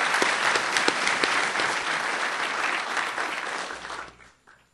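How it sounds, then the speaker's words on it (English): Audience at a university mathematics graduation ceremony claps in a sustained, fairly distant round of applause that tapers off and fades out at the end. "So let's give everyone a big round of applause."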